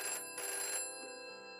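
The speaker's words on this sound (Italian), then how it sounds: "E quel telefono che senti non smette mai di suonare" An old-style telephone bell rings in two short bursts, a bright metallic trill that repeats and then fades into a quiet tonal hum.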